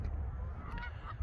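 Geese honking outdoors during a spring walk near a stadium, a brief call heard over steady low background rumble, with no talking.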